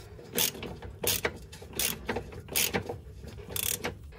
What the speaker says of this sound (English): So now we just need to remove these 3 bolts here, which bolt the ball joint to the lower arm.